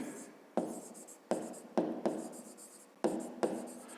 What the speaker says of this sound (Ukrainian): Ну то запишемо тоді так.